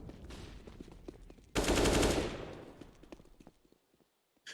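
Gunfire in Counter-Strike on the Inferno map during a forZe versus Nemiga match: a dense burst of rapid shots after a stretch of quieter clatter and footsteps, fading out, then one short final crack.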